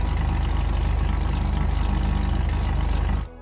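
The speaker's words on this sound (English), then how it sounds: "This has a custom rotary idle sound." A custom rotary engine idles in a JDM car in GTA V, giving a steady, loud, pulsing burble with no talk over it, until it cuts off abruptly at the very end.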